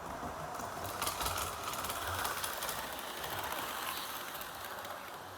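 Model railway locomotive running along its track, a faint, steady mechanical whir with light rhythmic clicking of wheels over rail joints, heard alone.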